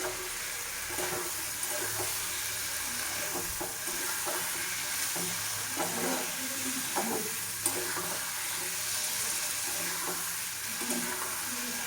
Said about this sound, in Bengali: এই দেখো এমনভাবে কষিয়ে তারপরে এই কষাতে তেল ছেড়ে গেছে।